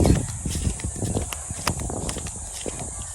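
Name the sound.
carabao (water buffalo) walking in a field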